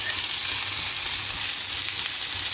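Browned potatoes fry in fat in a pan, giving a dense, steady sizzle with no breaks that fills the whole stretch.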